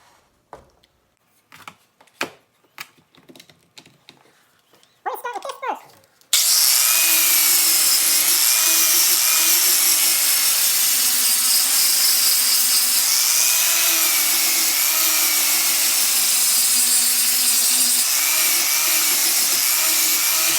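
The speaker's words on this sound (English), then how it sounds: "grinder, you really gotta be careful because on aluminum, it'll eat right into it" Grinder sanding an aluminum tail spring: after a few scattered clicks and knocks, the tool starts up and runs as a loud, steady, close high-pitched whine with a slight wavering pitch for over ten seconds, no voices.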